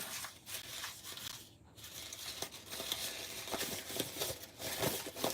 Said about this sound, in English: Just crumple it all up.